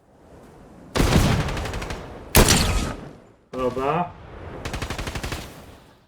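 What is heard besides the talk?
sniper rifle gunfire in Fortnite video game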